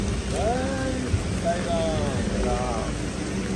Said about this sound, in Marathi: भरपूर जोरदार पाऊस पडत आहे